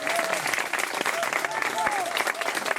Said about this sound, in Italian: un applauso per Ciriaco Goddi.